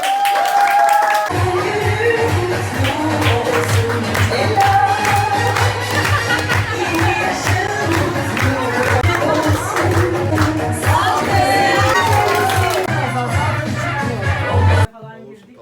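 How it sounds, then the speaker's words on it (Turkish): A small group claps and cheers at a birthday cake cutting in a café, the clapping running steadily for over ten seconds over a steady background tone before it stops abruptly. "Herkesten kocaman bir alkış alabilir miyim?"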